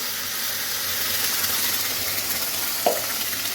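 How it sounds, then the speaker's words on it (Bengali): Mashed bean paste hits hot oil with onions already browned red, giving a steady close sizzle and hiss with a brief clink near the end. "শিম বাটাটা ঢেলে দিলাম"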